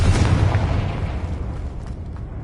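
A Confringo blasting spell goes off in a Harry Potter video game, a heavy booming explosion at the start that fades into a long, rumbling decay.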